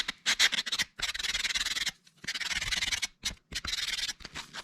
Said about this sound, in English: I'll just do a rough or a quick sand.